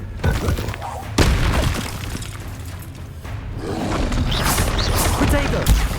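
Spell explosions booming in the video game Hogwarts Legacy, a heavy blast near 1.2 seconds followed by rumbling, crackling impacts and dense roaring noise, with a voice shouting over the action.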